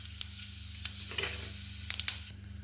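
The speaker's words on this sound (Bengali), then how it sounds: "আবার তেল দিয়ে দিয়েছি 1 চামচ, শুকনো লঙ্কা, তেজপাতা আর 5 ফোড়ন ফোড়নে দিয়ে দিলাম" A spoonful of oil tempered with dried red chilli, bay leaf and five-spice gives a faint, crackling sizzle with scattered sharp pops and a few clinks against the pan. There is no speech.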